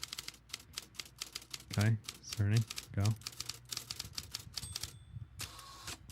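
Rapid mechanical typewriter keystrokes clatter in quick bursts, close and steady, while someone talks over them during a baseball home run derby broadcast.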